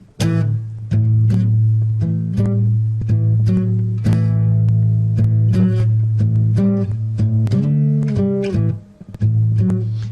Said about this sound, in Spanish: Es música de blues.